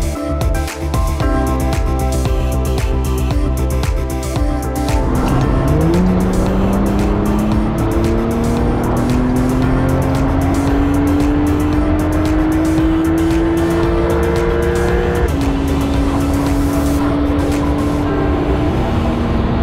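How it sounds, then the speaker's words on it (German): A Porsche 911 992 Carrera 4S accelerates hard onto the autobahn, its loud engine note climbing steadily in pitch through long pulls, briefly dropping at a gear change before rising again. "jetzt fahren wir hier gerade auf die Autobahn"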